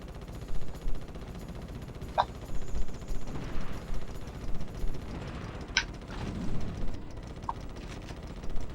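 Gunfire in the Ratchet and Clank video game, repeated bursts of shots popping at an uneven rhythm over a steady background of game noise.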